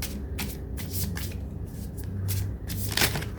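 Tarot cards shuffled by hand in a rapid run of riffling bursts, close and crisp, before one card is drawn.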